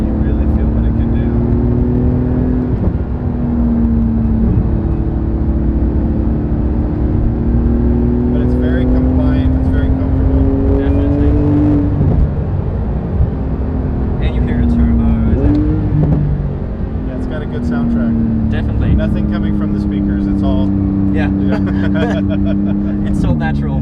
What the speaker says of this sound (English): Porsche did a really nice job with this exhaust.